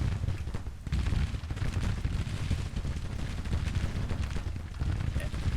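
Musket volleys from Civil War infantry battles in Grand Tactician rumble continuously as dense, overlapping gunfire, a loud sustained crackle and boom with no clear gaps.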